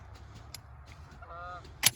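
Geese honk during an early-season goose hunt on a golf course with large flocks, a short run of nasal calls rising mid-clip, then a sharp loud burst near the end over low outdoor rumble.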